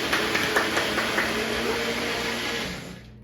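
A kitchen blender whirs steadily while mixing salad dressing, a loud continuous motor drone that fades and cuts off near the end.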